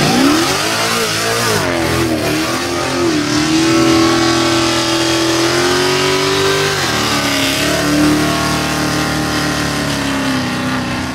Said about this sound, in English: His custom exhaust, utilizing an electric cutout, allows this to go from an unsuspecting, hey, look at this awesome ride, to holy Hellcat